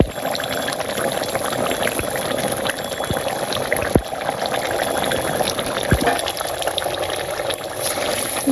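Curry in a pot bubbling with a continuous watery boil and gurgle, close and fairly loud, punctuated by a few soft knocks, with no talking over it.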